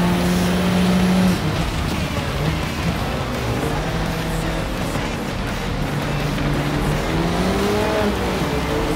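An Aston Martin V8 race car engine in the Gran Turismo 7 racing game drones and revs through gear changes, loud and continuous with shifting pitch under a constant roar.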